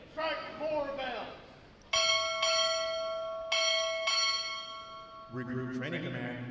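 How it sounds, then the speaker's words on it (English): A ship's bell struck four times in two quick pairs at a Navy boot camp graduation ceremony at Great Lakes, Illinois, each clear ringing strike sustaining in a large hall, with an amplified voice speaking before and after. "Strike 4 bells!"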